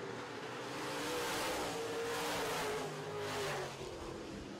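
Modified stock cars race in a heat at Red River Co-op Speedway, a distant, steady engine roar that swells and fades as the pack passes, faint and alone.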